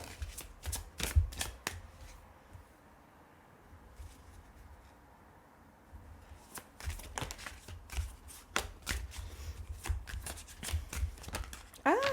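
Tarot cards being shuffled close up in quick bursts of crisp, riffling flicks, with a quieter pause in the middle before the shuffling picks up again, under occasional soft talk.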